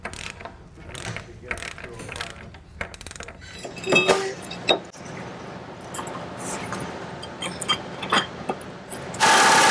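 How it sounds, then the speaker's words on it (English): A torque wrench tightens lug nuts on a Mazda Protege wheel hub, with repeated metallic ratcheting clicks and clinks at close range, some louder clanks midway, and a loud rushing burst at the very end. "So I've torqued the lug nuts down to spec"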